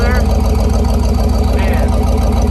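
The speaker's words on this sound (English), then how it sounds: "you like the sound of that exhaust coming out of there?" Steady, throaty rumble of a 1965 Chevy big-window pickup truck's exhaust idling close by, loud and unbroken with a low, pulsing beat.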